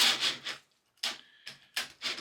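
A cordless drill with a non-ratcheting chuck drives a 3/4 inch Bosch Daredevil bit on speed 2 and struggles to bore. Close, harsh grinding bursts break off into short silences, and one brief steady whine sounds between them.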